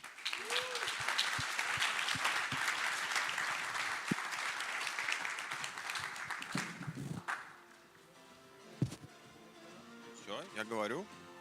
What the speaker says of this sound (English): let's have a big round of applause for the panelists.